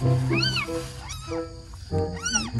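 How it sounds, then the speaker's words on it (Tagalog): Newborn kittens meowing just after birth while the mother cat is still delivering the litter, three high, thin cries spaced about a second apart, close and fairly loud. "Gutom na yata yung mga kuting."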